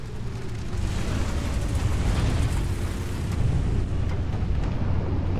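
Heavy cannon fire from an M103 heavy tank in War Thunder, a deep, continuous booming rumble that rolls on without a break, loud and close, with no voices over it.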